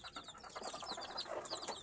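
Young chicks peep in a coop where mother hens raise the brood, a dense chorus of high, rapid chirps layered over one another and close by, steady throughout with no talking.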